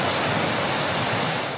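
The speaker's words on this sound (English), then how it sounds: "Reservoir 1 is being filled and about to go back online" Water rushes steadily into a reservoir as it is filled, a dense, even hiss and roar heard close and alone for a brief moment.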